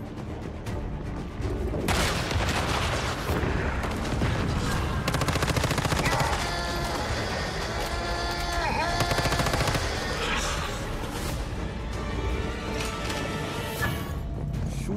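Rapid machine-gun fire in a free-to-play open world survival video game, loud, dense bursts that run almost nonstop for most of the stretch over a busy game soundscape.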